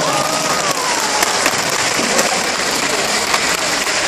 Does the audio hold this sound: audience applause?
yes